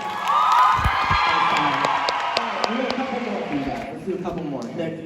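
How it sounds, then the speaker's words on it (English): An audience at a live surprise party tour event claps and cheers loudly, with whoops and children's shouts that gradually fade as a host's voice carries over the crowd. "Round of applause for our friend."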